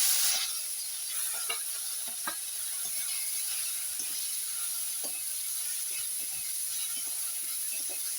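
Onion paste sizzling in hot oil in a pan while a Bengali desi chicken curry is cooked, a steady close hiss with small crackles and pops scattered throughout.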